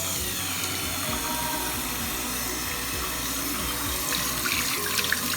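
Cold tap water from a well system, just after a filter change, runs steadily and loudly from the faucet as a continuous close hiss and splash with no pauses.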